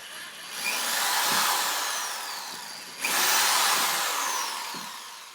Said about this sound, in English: we want to drill those out to be 3/16 size bit